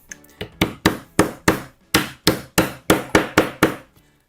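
A furniture connector is hammered forcefully into drilled holes in wood with a series of about fourteen sharp, loud, evenly spaced blows, close by and with no talking.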